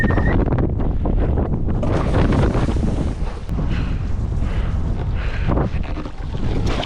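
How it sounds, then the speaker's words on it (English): Strong, gusty wind roaring across the microphone while wingfoiling on open water in a snowstorm, a loud continuous buffeting rush that swells and dips, with no voices. "It's stronger than I thought it would be. It's really gusty and it's really cold."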